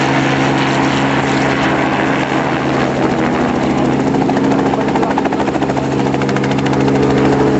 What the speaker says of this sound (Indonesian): Ini pesawat namanya Robinson. Ini pesawatnya Robinson.